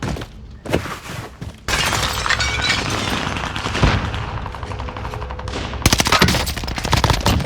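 AS-44 rifle in the video game Call of Duty Warzone firing rapid automatic bursts, loud and close, with sharp cracking shots and a sustained stretch of gunfire separated by brief gaps.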